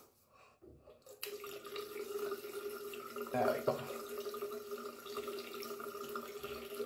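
Tap water runs steadily into a sink during a wet shave, a continuous hiss and splash that starts abruptly and carries on, with a brief spoken remark.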